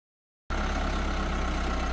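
A farm tractor engine cuts in abruptly after half a second of silence and then idles steadily with a low, even rumble, close and loud, no voices.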